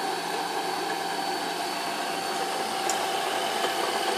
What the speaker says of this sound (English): when you put your foot down on the pedal, the bobbin will hopefully spin